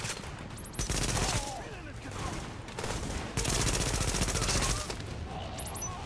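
Deployed turret firing in the video game The Division, a loud, sustained rapid burst of automatic gunfire that rolls on in long continuous volleys with brief gaps between them.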